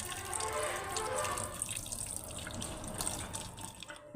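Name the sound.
washing and rubbing snails in water with salt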